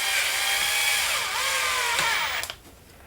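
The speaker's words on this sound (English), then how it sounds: "I'm going to take my driver. I'm going to use my larger Phillips bit. Run that down nice and snug." A power screwdriver with a large Phillips bit runs a screw into the lower frame of an RC EYE NovaX 350 drone, whirring steadily up close, its pitch dipping as the screw snugs down, then cutting off with a click.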